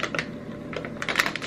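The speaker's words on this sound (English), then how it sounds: "My packages of these wipes are gonna fall, so apologize for all that crinkling noise." A plastic package of Simple brand facial wipes crinkles close up in quick, uneven bursts of crackly rustling over a short moment, with no speech.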